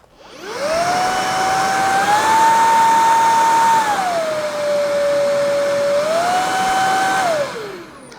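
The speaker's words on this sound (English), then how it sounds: "you've got different suction levels, so I'll just show you that." Loud, close Kalado KCV01 cordless vacuum cleaner motor whirring and shifting pitch up and down as it steps through its suction levels, then spinning down at the end.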